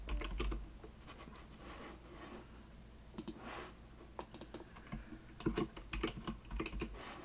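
Typing on a computer keyboard while entering data, bursts of close, crisp key clicks with short pauses between runs and no talking.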